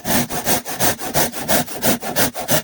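A panel saw rip-cuts timber along a kerf line in fast, even push-pull strokes, each one a loud, close rasp over about a dozen cycles, with no talking.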